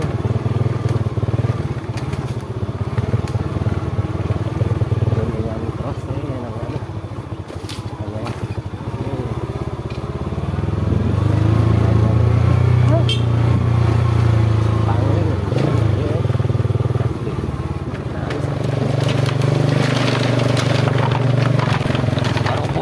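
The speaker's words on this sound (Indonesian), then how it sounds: "Motor trail." A trail motorcycle being ridden, its engine droning and rising in pitch under wind rumble, loud and close, with speech mixed in.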